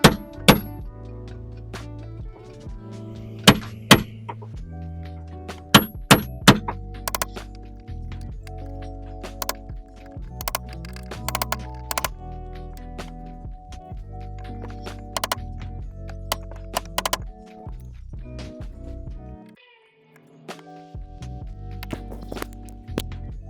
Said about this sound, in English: just need to hit it really hard just to try and flatten it out